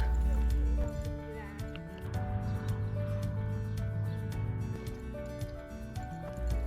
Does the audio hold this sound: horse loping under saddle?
yes